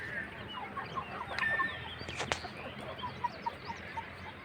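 A rooster clucks in short, soft bursts at close range, alongside other fowl, and a brief louder call rises in the middle against quiet outdoor background noise.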